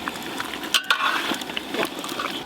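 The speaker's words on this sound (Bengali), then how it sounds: "হাড়িটা হাঁড়িটাতে ভালো করে নাড়া যাবে" A big pot of chicken curry sizzles as it is stirred, with a steady frying hiss and a few sharp scrapes and clinks of the spoon against the pot, heard close and without speech.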